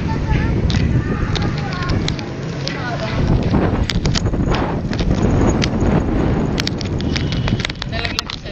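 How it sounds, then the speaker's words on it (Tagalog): Strong wind buffets a house during roof repair, a loud, continuous rushing roar with scattered sharp knocks and rattles, and voices talking underneath. "Nakatakot yung hangin."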